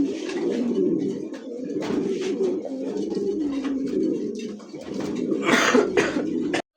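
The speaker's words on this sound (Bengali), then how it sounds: "একদমই ডাবল বারের মধ্যে আফসান জার্মান বিউটিমা কবুতর" Afsan German Beauty pigeons coo continuously, close by, in a low warbling rumble with throaty bursts layered over one another, heard alone until an abrupt stop.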